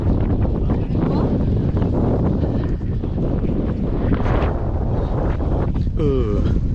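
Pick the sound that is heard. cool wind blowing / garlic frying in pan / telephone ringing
cool wind blowing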